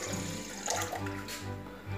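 Water is poured into a stand mixer bowl for a wholemeal pandolce genovese dough, a soft, continuous splashing trickle with gentle gurgles, fairly quiet and without voices.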